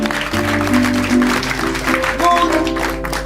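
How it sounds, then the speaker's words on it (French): Audience applause for a volunteer at an improv theatre cabaret in Paris, with steady clapping throughout and held musical tones sounding underneath. "Applaudissements pour Maude"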